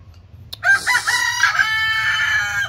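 A rooster crowing once, close and loud, a long drawn-out cock-a-doodle-doo after a brief click, on a farm where goats are kept, with no talking over it.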